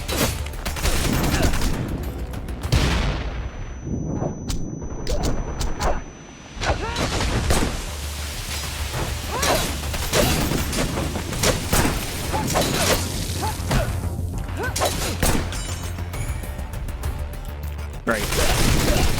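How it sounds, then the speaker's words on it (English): Grenade explosions and bursts of gunfire from the shooter game Wanted: Dead fill a long, dense stretch of rapid shots, blasts and shattering impacts, loud and nearly continuous, with a person talking over the action. "Grenades!"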